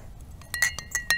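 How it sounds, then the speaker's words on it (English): Spoon stirring Squincher Zero orange drink mix into water in a glass, a quick run of bright, close clinks against the glass, growing louder and more frequent. "It's mixed up very well, even though it's concentrated."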